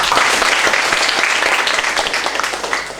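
A school hall audience at an Indonesian student council briefing claps together in a loud, dense burst of continuous applause, close and sustained, tapering slightly near the end.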